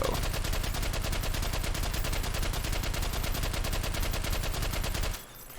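An M60 machine gun fires one long, rapid, continuous burst for about five seconds, loud and close, then cuts off abruptly.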